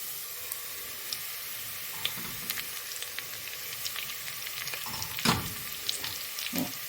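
Meat returned to a hot pot to fry for Iraqi okra stew, giving a continuous bright sizzle with scattered pops and a couple of louder bursts near the end, alone without speech.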